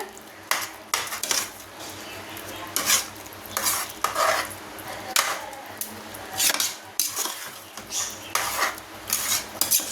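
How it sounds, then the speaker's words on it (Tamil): Thick spicy tomato thokku stirred continuously in a pan, with repeated loud scraping and metal clinks of the spoon against the pan over a low sizzle, close and busy throughout. "இந்த மாதிரி நல்லா கிளறிக்குங்க கைவிடா கை எடுக்காமல் நல்லா கிளறிக்குங்க"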